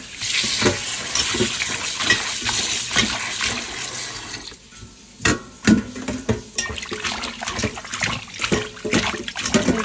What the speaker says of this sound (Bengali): আমার মাছটা ধোয়া শেষ হয়ে আসছে।